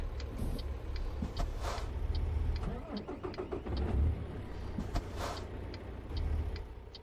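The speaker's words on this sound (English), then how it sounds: "Super quiet motor. Almost sounds electric." A quiet truck engine idles steadily in American Truck Simulator, a low, smooth hum almost like an electric motor, running continuously with faint ticking and clicks above it.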